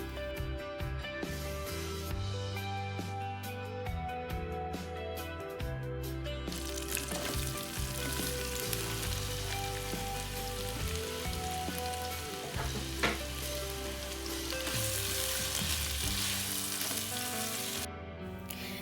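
Silver pomfret frying in oil in a pan on a low flame sizzles steadily and close up, a continuous crackling hiss that swells after the first few seconds, under faint background music.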